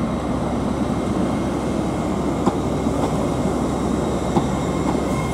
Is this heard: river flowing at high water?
no